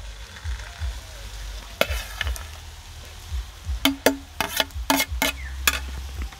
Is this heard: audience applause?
no